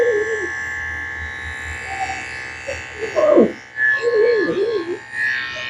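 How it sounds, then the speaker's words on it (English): Electric clippers shave the fur of a wiggly senior poodle during grooming, giving a steady low motor hum that runs under a person talking nearby. "Just shave the top up here."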